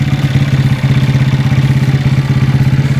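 A loud, close, modified Astrea motorcycle engine idles with a rapid, lumpy thumping pulse, steady throughout with a brief stumble early on.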